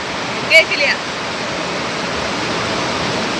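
Steady, loud roar of water rushing from a dam release at Peechi Dam fills the whole stretch, broadband and unbroken, with a brief voice near the start.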